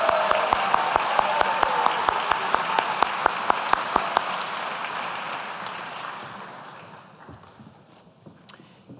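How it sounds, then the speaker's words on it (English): Graduation ceremony applause for Executive Masters in Health Administration graduates: broad clapping with a few sharp, evenly spaced loud claps on top, fading away gradually over the last few seconds. "Please join me in a round of applause for our Executive Masters in Health Administration graduates."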